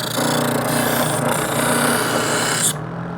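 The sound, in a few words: electric knife sharpener sharpening a knife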